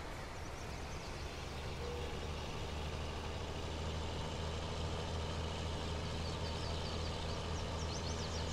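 Harvester engine in Farming Simulator 19, a steady, low diesel drone that runs evenly and continuously without pause, with a faint higher whine riding on top.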